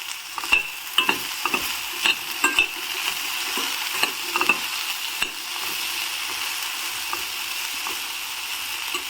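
Food sautés in a pan with a steady hiss of frying, while a spoon stirs and scrapes in a burst of clattering strokes that then fade, leaving the sizzle alone.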